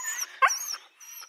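A dog at a boarding kennel gives a short bark and whimpering yips, close and clear against otherwise quiet surroundings.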